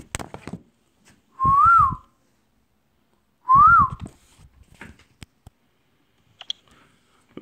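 Two clear, separate whistled notes, each rising and falling in pitch, sounded by a person nearby to try to make a lost phone respond, with a few faint clicks in between and no talking.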